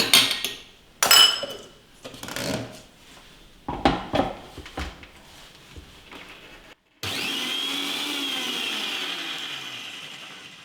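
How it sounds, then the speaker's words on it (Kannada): Mixer grinder grinding lemon chutney seasoned with salt and lemon juice: a loud, steady whirring drone runs continuously through the last few seconds, preceded by scattered clatters and knocks of the jar and lid. "ಈಗ ಇದನ್ನ ಇನ್ನು ಒಂದ್ಸಲ ಗ್ರೈಂಡ್ ಮಾಡ್ಕೊಂಡ್ಬಿಡೋಣ"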